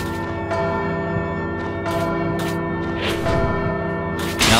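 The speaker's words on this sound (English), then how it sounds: "Oh, that bell right there." Bell ringing in the video game Bloodstained: Ritual of the Night, sustained resonant tones over game music, with a few brighter struck accents and a louder hit at the end, no talking.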